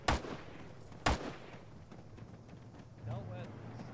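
Gunfire in the video game Arma during a squad firefight: two sharp, loud shots about a second apart, followed by quieter crackling and distant rumble.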